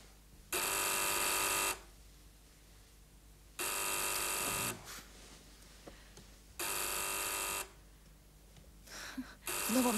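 An old-style telephone bell rings in three long bursts with pauses between, loud and clear in an indoor room, followed by a short scrape at the end.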